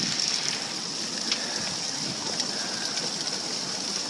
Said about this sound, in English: Oh, now it's all rain.